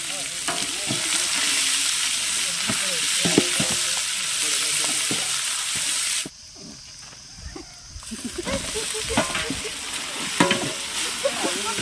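Food sizzles in a large pan as it is stirred, cooked in bulk for parotta meal parcels. Steady frying hiss runs under repeated scraping strokes, drops away briefly midway, then returns with more stirring.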